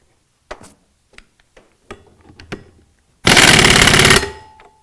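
An impact wrench with a 1.5 inch socket tightening a lock nut onto a shaft during a hub kit installation, heard as a loud, sustained rattling burst of about a second after a few scattered tool clicks and clanks.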